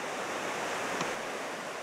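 Fast-moving stream water rushing over a shale and rocky bed below a dam, a steady broadband rush heard up close with no other sounds.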